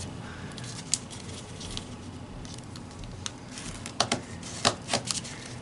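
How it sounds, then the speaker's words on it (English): Paper being folded into origami headphones, with soft, close crinkles and light rustling taps that grow into a few sharper crisp creases toward the end, faint and without talk. "take this edge and fold it to the crease"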